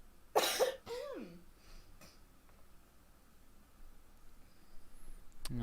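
One short, sharp cough up close, followed by a faint squeaky sound and then near quiet with a light click at the end.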